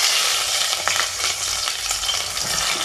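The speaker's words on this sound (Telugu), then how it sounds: "ఉల్లిగడ్డ అయితే వేసిన" Chopped onions fry in hot oil, giving a loud, dense, continuous sizzle with faint stirring scrapes, close up and with no talk.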